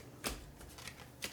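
Cards being shuffled for an Undaunted: Stalingrad board game, two faint, short riffling bursts close by, with soft rustle between them and no speech.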